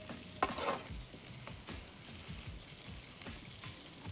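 Sliced zucchini and fresh white mushrooms sautéing in oil in a frying pan, giving a steady close sizzle with occasional stirring scrapes and no voices.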